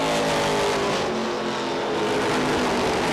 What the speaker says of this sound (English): He gets the car refired and back underway.